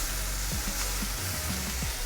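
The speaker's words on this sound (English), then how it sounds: "As you see, it's cooking. The onions are becoming translucent." Onions sizzle steadily in a pan with fine leaf thyme, a constant close frying hiss with a few soft stirring scrapes and no talking.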